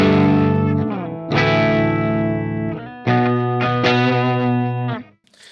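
Electric guitar in drop B goes through the green channel of an EVH 5153 amp with the pedal off, playing a few sustained, distorted chords and notes that ring out and then cut off.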